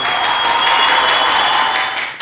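A small group breaks into brief, lively applause, a loud, close burst of clapping lasting a couple of seconds with a faint steady tone underneath.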